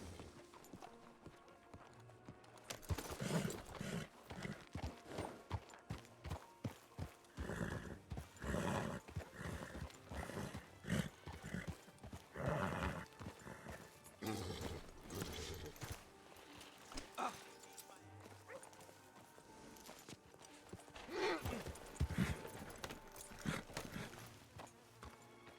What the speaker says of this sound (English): Let me hitch this horse.